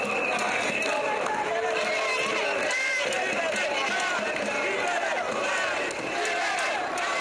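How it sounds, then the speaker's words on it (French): At Dakar airport, heavily armed gendarmes disperse a crowd. Dense, continuous commotion of shouting and moving people fills the scene, close and loud, with voices throughout. "Lourdement armés et solidement protégés, les gendarmes dispersent la foule."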